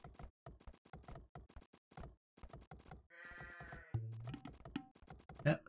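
Sheep bleating in the Age of Empires II video game, a harmonic bleat that stands out among game sound effects and a low thunk, following a stretch of commentator speech.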